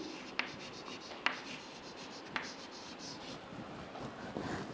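Chalk or marker writing on a board during a Python programming lecture: faint scratchy strokes punctuated by a few sharp taps, quiet and close, with no speech.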